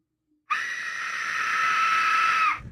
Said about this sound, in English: This is literally the whistle they used when they were about to attack.